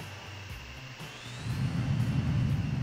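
Airplanes flying in the Transport Fever game: a quiet engine whine and high tone at first, then a swelling low rumble that grows louder and holds steady through the second half.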